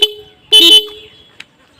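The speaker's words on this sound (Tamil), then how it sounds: "இப்போ வந்து பார்த்தோம் அப்படின்னா நம்ம ஹார்ன் அடித்து பார்க்கலாம்." A dual horn fitted to a Bajaj Pulsar 125 motorcycle gives one short, loud, bright blast of about a quarter second, framed by brief faint clicks and near silence.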